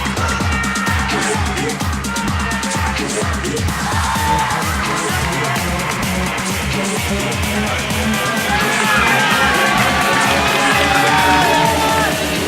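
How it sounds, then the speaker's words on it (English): An audience at a stage show's curtain call cheering and whooping for the stage crew, a loud sustained crowd roar mixed with shouts over steady background music. "huge round of applause for our stage crew"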